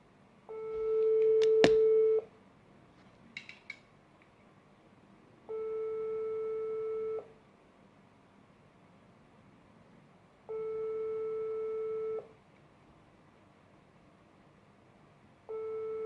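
Ringback tone of an outgoing phone call, four evenly spaced long beeps about two seconds each separated by silence, clear and fairly quiet, with a brief crackle near the start.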